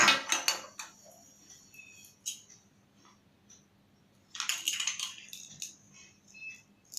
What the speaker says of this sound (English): So let me cut the honeydew.